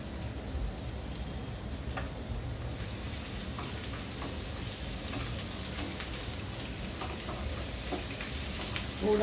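Chopped onion frying in a pan with matar (green peas) and potato, a steady, even crackling sizzle at moderate level that carries on unbroken throughout.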